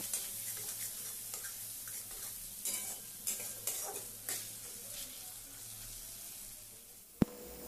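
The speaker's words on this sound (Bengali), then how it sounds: "ভালো করে এই টমেটো আর পেঁয়াজের সাথে কষিয়ে নেব" Tomato and onion sautéed with turmeric and chili powder for a prawn and spring onion dish, giving a steady low sizzle with soft stirring scrapes and a sharp knock near the end.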